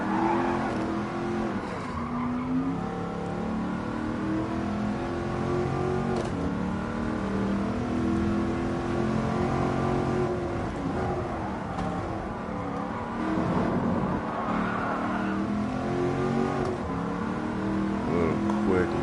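A Mercedes-AMG Black Series drives hard on the Nürburgring, with a sustained engine drone that rises and falls through shifts and some tire scrub. Someone talks over the engine throughout.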